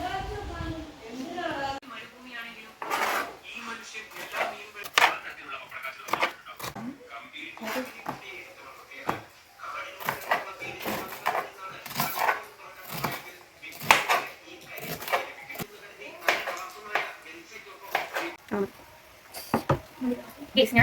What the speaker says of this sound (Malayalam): അപ്പം നമുക്ക് ഉള്ളി അരിയാം ഒന്നും കൂടെ